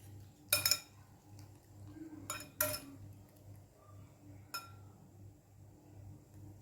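Bread toast mixture mixed in a bowl with a spoon, giving a few sharp clinks and scrapes against the bowl over a low steady hum, with quiet gaps between strokes.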